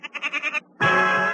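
A goat bleats in a short, loud, wavering call of rapid pulses, followed after a brief gap by a sustained, harsher bleat, close and alone.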